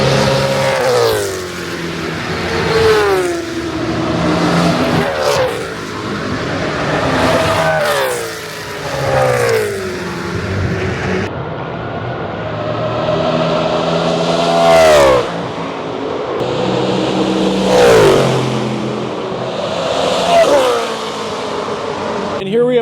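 Formula 1 V10 race cars at full speed on the Road America circuit, engines screaming loudly and continuously as they pass one after another, pitch sweeping up and down through gear changes and fly-bys.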